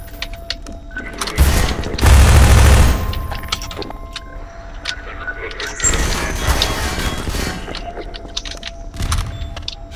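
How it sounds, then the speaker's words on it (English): A grenade explosion and gunfire in Half-Life 2: a loud booming blast followed by scattered shots, clanks and mechanical noises over several seconds. "Indeed, it is a grenade."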